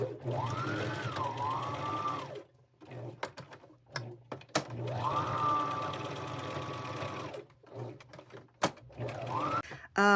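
A sewing machine stitches fabric-scrap appliques onto bib overalls, running in three bursts: two long runs of steady whirring, then a short final spurt, with brief quiet pauses and small handling clicks between them.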